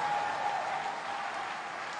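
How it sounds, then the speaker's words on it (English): A church congregation at a Sunday service claps along, a soft, steady patter of many hands heard from a distance at low volume, with a faint tone lingering underneath. "help me clap those hands for the King of Kings"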